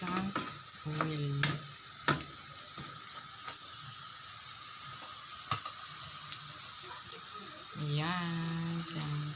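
Fishballs sizzling in plenty of hot oil, a steady crackling fry with occasional stirring clatter, while a person talks in the background.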